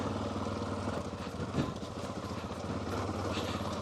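Yamaha XT660Z Tenere motorcycle engine running steadily while riding on a road, a continuous mid-pitched single-cylinder drone close to the microphone with a brief bump partway through.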